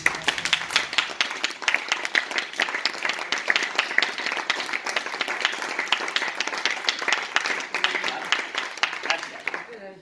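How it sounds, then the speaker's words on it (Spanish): An audience at a lecture claps together on request, starting ragged and settling into a steady coordinated rhythm of sharp, evenly spaced claps that continues loudly for the whole stretch. "Me gustaría que entre todos hicieran palmas de forma coordinada."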